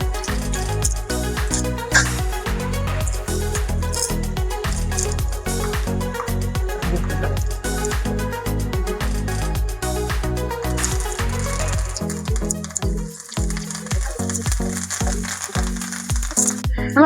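Shallots, garlic, dried chillies and curry leaves fry in coconut oil, giving a steady close crackle and sizzle with dense popping spatters throughout, easing into sharper, sparser pops toward the end.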